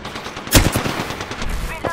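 Rapid automatic gunfire crackles in a video game, opening with a sharp loud burst followed by a quick rattling series of shots, with faint in-game voice chatter underneath.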